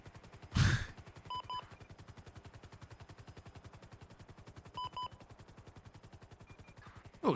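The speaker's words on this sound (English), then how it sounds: "Oh, shots fired." Gunfire in a video game: one loud burst early on, then two short sharp volleys mid-clip, set against a steady rhythmic mechanical pulse that runs the whole way, with no talking.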